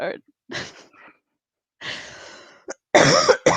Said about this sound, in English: I apologize for any coughing that your ears will have to hear